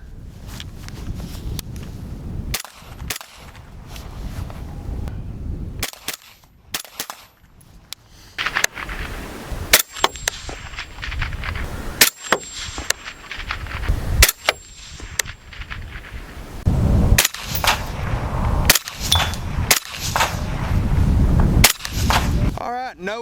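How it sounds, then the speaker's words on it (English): Suppressed CZ Bren 2 rifle fitted with an Enticer S suppressor fires a string of sharp, muffled cracks at irregular intervals outdoors, with light wind noise and faint talk between shots. "how well this Bren 2 sounds suppressed, especially with the Enticer S"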